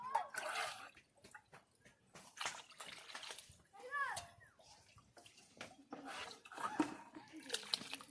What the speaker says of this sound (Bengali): এবার কড়াইয়ের মধ্যে জল দিচ্ছি